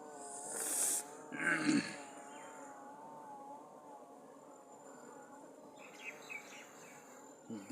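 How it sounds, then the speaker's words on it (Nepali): A dense swarm of honeybees buzzing around a hive, a soft continuous drone with wavering pitch heard at a distance, with a few louder passes and faint bird calls mixed in. "यति बाक्लो रहेछ यहाँ मौरी।"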